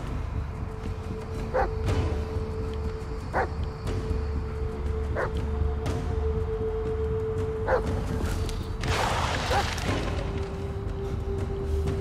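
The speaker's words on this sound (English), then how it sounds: "Dog's still barking." A dog barks steadily in Blair Witch, with single barks spaced a couple of seconds apart, moderately distant, over a constant low outdoor drone.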